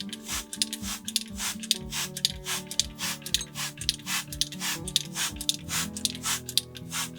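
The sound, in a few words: spray bottle misting water onto crocheted squares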